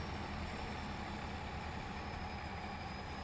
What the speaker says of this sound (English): Come on, tractor, you can do it.